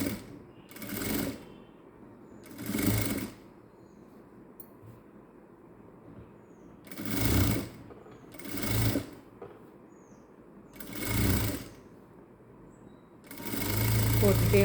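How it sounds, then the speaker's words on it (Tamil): Sewing machine stitches lined princess-cut blouse fabric at a quarter-inch seam in several short bursts, each a second or so of loud whirring. Quiet gaps and a voice fall between them. "இந்த ஷோல்டரில் துணியில் வச்சு பாடி துணியில் வச்சு 1/4 இன்ச்சில் ஒரு தையல் போட்டுக்கிட்டே வரோம்"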